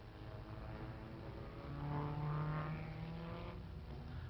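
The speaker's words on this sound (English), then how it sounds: "And here's Englishman Roy Salvadori in his Formula 2 Cooper Climax." A Formula 2 Cooper Climax race car at the 1957 German Grand Prix gives a continuous engine drone that swells as it passes, heard in thin, muffled archival sound.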